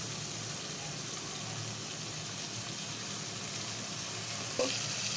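Shrimp frying in a pan for a bottle-gourd curry, a steady, fairly faint hiss of sizzling oil throughout with a brief knock near the end, no voices.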